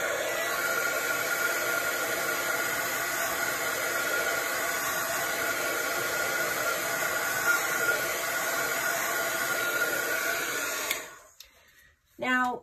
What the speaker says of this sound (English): I'm just going to plug in my heat tool and pardon the noise for just a few seconds